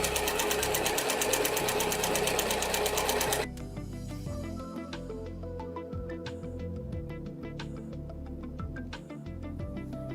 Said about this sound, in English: Okay, so I've done some just pretty simple straight line quilting on here.